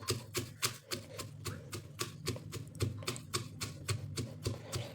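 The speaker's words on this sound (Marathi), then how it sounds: "तर आता आपल्याला हा ठेचा कुटून घ्यायचा आहे. जाडसरच कुटायचं" A pestle pounds green chillies into a coarse thecha in a mortar, giving steady, close, sharp knocks at a brisk, slightly uneven rhythm, about three or four strikes per second, with no talking.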